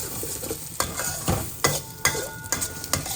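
Grated cabbage and eggs stir-fried in a pan, a steady sizzle punctuated by regular scraping strokes of a spatula against the pan, close and clear with no voices.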